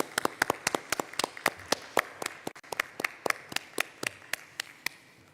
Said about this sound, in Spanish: un aplauso nuestro, gordo, y desde casa